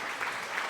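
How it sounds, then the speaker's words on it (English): Applause from a small audience at the end of a live art stream, a steady, close, continuous patter of hands clapping with no voices over it. "Thank you for clapping."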